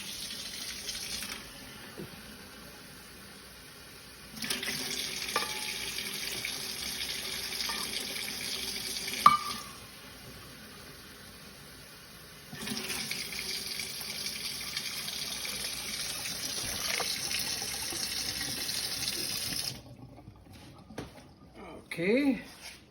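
Warm tap water runs from a faucet into a cup for cinnamon bun dough, in two steady gushing stretches separated by a pause, with quiet kitchen background between them.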